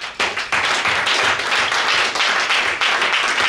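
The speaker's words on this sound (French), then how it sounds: "Acclamez un peu pour Jésus." A church congregation applauds during a French-language sermon, with dense, steady clapping from many hands filling the whole stretch, loud and close.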